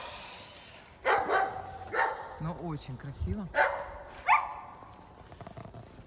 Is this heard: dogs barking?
yes